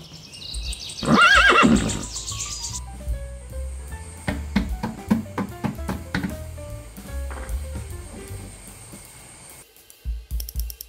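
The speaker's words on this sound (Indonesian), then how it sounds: "kuda." A horse whinnies loudly near the start, a high shaky neigh lasting about a second, followed by a sequence of plucked and struck musical tones with no talking.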